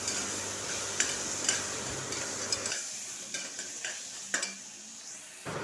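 Ginger garlic paste and tomatoes fry for mutton kulambu, a faint sizzle under several spoon scrapes and taps against the pan that thins out partway through.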